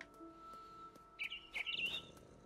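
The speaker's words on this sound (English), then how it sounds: "I can hear you, birdie, but I don't see you." Bird chirps from the video game What Remains of Edith Finch, a few bright, quick tweets arriving in clusters in the second half over a soft ambient game backdrop, with no talking.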